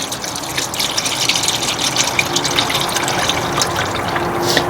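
Dirty transmission fluid drains from an Acura TLX in a continuous splashing gush, a steady pouring stream close by that keeps going without pause.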